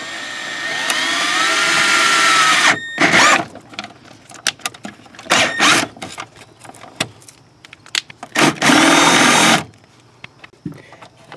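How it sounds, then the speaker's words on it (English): A power drill whirs with a rising motor whine while drilling into a Camaro dashboard, then several separate loud bursts of drilling and grinding follow, with quiet clatter between them and no talking. "I'm gonna go ahead and drill this"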